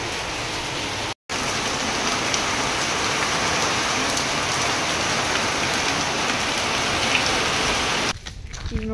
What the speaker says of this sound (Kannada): ಮಳೆ ನೋಡಿದ್ರೆ ಸಿಕ್ಕಾಪಟ್ಟೆ ಬರಹತ್ತೈತ್ರಿ